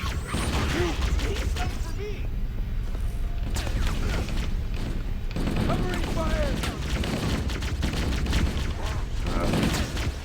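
Gunfire in the video game Halo: Combat Evolved comes as repeated sharp shots and bursts amid clanking game noise, with a voice talking intermittently over the action.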